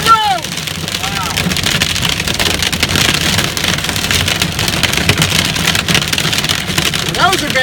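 Large hail about an inch across pelts a car and the road as a hailstorm moves into Plainfield, Indiana: a steady, dense, loud rattling roar with sharp hits, while people talk excitedly over it.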